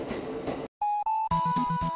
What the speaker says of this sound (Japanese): 電車区の中を移動しています。